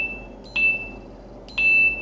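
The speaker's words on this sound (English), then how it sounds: "You have a beep coming out of the instrument, which is pretty quick." Two short, high electronic beeps from a multimeter's continuity test sound about a second apart, each clean and steady, over a faint background hum.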